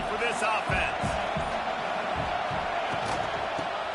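Loud, steady stadium crowd roar from a college football video game, continuous wall of noise with rhythmic low thumps underneath, persisting throughout without clear speech on top.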